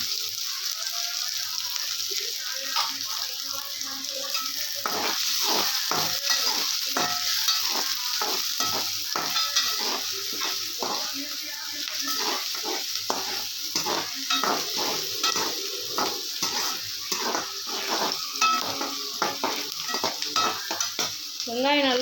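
Onions sizzle and crackle steadily as they brown in a hot pan for a mushroom gravy, with a spatula repeatedly stirring and scraping through them, fairly close and continuous.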